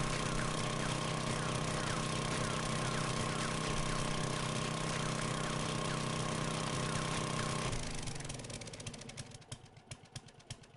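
An auger drills in the 7 Days to Die video game, a loud continuous droning motor whine that runs steadily for about eight seconds before cutting off into fainter scattered clatter.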